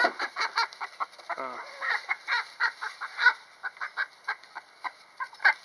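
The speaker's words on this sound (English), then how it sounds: "That's my chickens." Several chickens cluck in quick, uneven bursts close by, with one brief squawk among the steady chatter.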